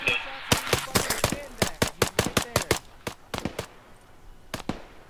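Rapid gunfire from the Arma 3 military video game, a dense series of sharp shots in uneven bursts, loud and close at first, then sparser, with faint voices underneath.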